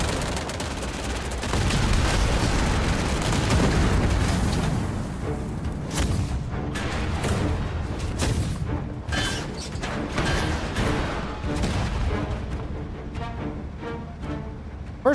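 Tanks firing in a video game: a dense, loud barrage of booming shots and rapid bursts, heaviest in the first half, then thinning into separate sharp blasts and clattering mechanical hits toward the end, with no talking.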